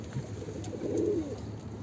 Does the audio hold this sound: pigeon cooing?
yes